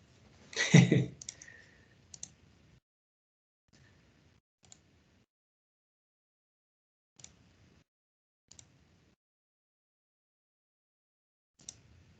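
Mouse button clicks on a computer, a few sharp isolated clicks spaced irregularly, one louder burst near the start, otherwise near silence.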